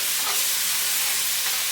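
Flour-thickened gravy simmering in a pan with smothered cube steaks, giving a steady loud hiss and bubbling sizzle, close and continuous.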